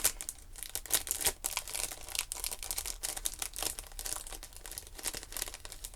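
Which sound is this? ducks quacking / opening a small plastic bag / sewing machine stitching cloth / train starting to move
opening a small plastic bag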